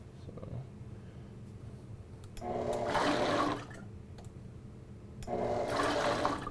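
Blender giving two quick pulses to a cream mixture for Irish cream, two loud whirring bursts of about a second each separated by a short pause, with a low background hum between them.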